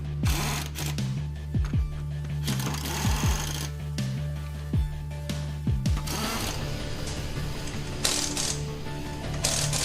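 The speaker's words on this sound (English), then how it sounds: "Tighten the lug nuts in a star pattern." An impact wrench tightens the wheel lug nuts on a 2004 Ford Taurus SES in a series of short, sharp rattling bursts over a steady mechanical hum.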